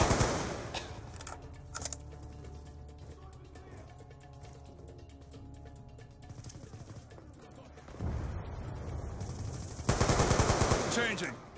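Black Ops 2 video game gunfire, bursts of automatic fire over a busy game soundtrack, with louder clusters of shots near the end and voices talking intermittently.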